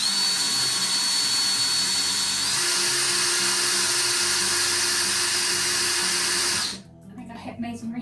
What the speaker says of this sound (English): I'm drilling in.